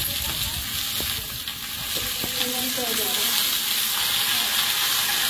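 Okra with chopped onion frying in oil gives a loud, even sizzle near at hand, with a couple of clinks and scrapes of stirring early on and no talk.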